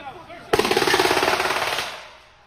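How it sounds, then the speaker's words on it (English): A recorded volley of rapid gunfire in Chicago: a sudden burst of evenly spaced shots at a fast automatic rate, loud at first and then fading out over about a second and a half. "pretty alarming to hear that rate of gunfire in Chicago"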